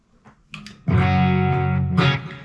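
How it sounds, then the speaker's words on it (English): Clean electric guitar tone from a Fractal FM3 on channel 1, used with a Friedman IR-X: a few light picked notes, then a sustained strummed chord ringing steadily before a second strum near the end, with no voices. "now let's go back to a clean sound, channel 1."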